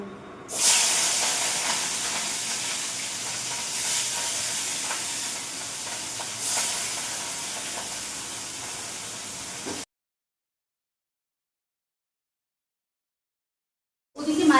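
Loud, close sizzling and hissing of fish frying in hot oil, steady for several seconds, then a stretch of silence before it resumes.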